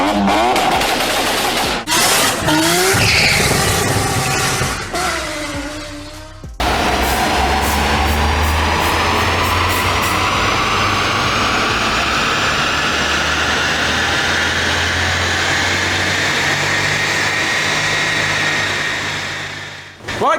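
A stage 1 Ford Fiesta EcoBoost fitted with a Forge induction intake runs on a dyno. Its engine starts with rough, loud bursts, then climbs in one long, rising rev that ends in a sharp cut-off.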